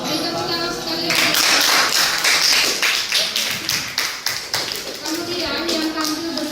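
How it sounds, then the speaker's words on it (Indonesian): A classroom of students gives a round of applause after a group presentation, steady close hand claps lasting several seconds with some voices mixed in. "Mari tepuk tangan sekali lagi."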